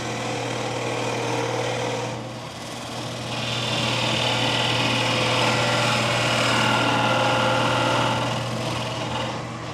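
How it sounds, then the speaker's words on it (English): A wood lathe spins a bowl blank of wet spalted alder while an angled skew shapes the tenon, a steady high motor whine with hissing cutting noise that dips briefly then swells again. "I use the angled skew to shape the tenon into a dovetail to match the jaws of my chuck."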